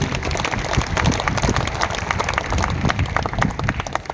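A crowd at a Hindi kavi sammelan comedy show applauds the poet, producing steady, dense clapping that holds at an even level throughout.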